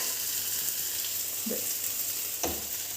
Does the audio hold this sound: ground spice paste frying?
yes